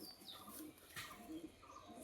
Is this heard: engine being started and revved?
no